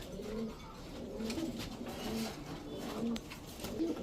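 Soft, low cooing from club racing and high-flyer pigeons repeats every second or so over a faint background hiss, with no talking.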